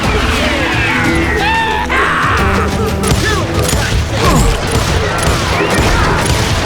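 Dense gunfire and crashing impacts from the Western shooter Call of Juarez: Gunslinger, a loud continuous barrage of shots with booms and smashes, no speech audible over it.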